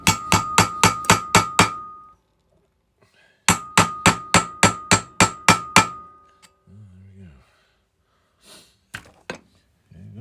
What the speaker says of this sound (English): We've got a hammer.